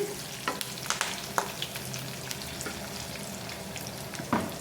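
Curry leaves fry in hot oil in a pot of chicken sherva as a spoon mixes them, a steady crackling sizzle broken by sharp ladle clinks and scrapes.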